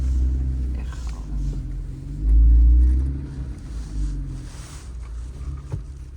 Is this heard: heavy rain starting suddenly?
no